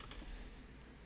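Typing on a computer keyboard, faint soft key clicks in a quick brief burst with no voices.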